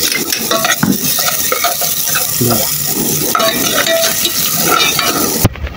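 Garlic and onion fry in hot oil in a pan with a loud, continuous crackling sizzle. A utensil keeps stirring, adding frequent scrapes and light metallic clinks, with no speech.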